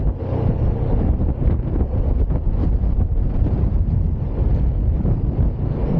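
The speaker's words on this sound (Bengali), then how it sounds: "ও কি হাওয়া চলছে" Strong coastal wind roars and buffets steadily against the microphone beside a motorbike loaded with luggage, a dense, unbroken gusting rush that lasts throughout with no voices.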